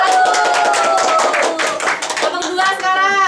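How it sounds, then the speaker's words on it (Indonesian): Brisk round of hand clapping from a classroom audience for a presenting student group, dense and close, with children's voices chattering over it throughout. "Tepuk tangan untuk kelompok"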